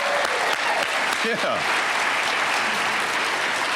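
Journalism school graduates at a December commencement ceremony break into loud, sustained applause with a few whoops rising above the clapping, which continues steadily throughout.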